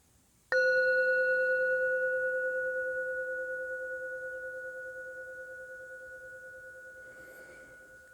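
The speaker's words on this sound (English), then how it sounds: "I'll be playing this singing bell." A single singing bell is struck once, giving a clear ringing tone that hangs and slowly fades over several seconds in a quiet yoga class setting, with no talking.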